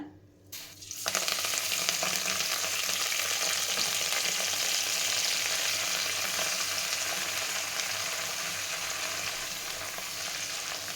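Coriander leaves frying in hot oil in a home kitchen while making coriander thokku, a steady, close, continuous sizzle that starts abruptly and holds evenly throughout with no talking.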